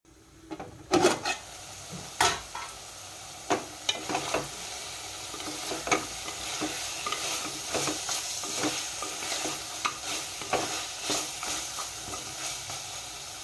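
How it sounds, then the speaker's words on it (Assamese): Goat meat fries on low heat in a covered pan, a steady sizzle broken by repeated sharp clacks and scrapes of stirring and the lid being lifted and set back, close and fairly loud. "এনেকৈ ঢাকোন মাৰি মাৰি কম জুইত যেতিয়ালৈকে ভজা নহয় মাংসখিনি, তেতিয়ালৈকে ভাজি থাকিব"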